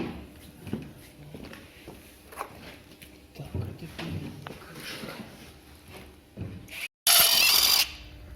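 A ratchet wrench works loose the cylinder head bolts on a Hyundai ix35 g4kd engine during an overhaul: steady close clicking of the pawl in bursts, ending in a short loud rasping spin, with no voices.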